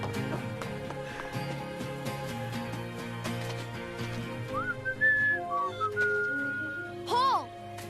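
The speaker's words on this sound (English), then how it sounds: "I heard your whistle." A boy whistles from around five seconds on, a few rising and falling pitched calls, with a final short burst near the end. Cartoon background music plays beneath throughout.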